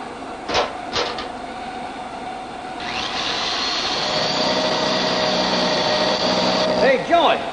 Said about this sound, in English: get a close-up of me grinding the rust off of this manhole cover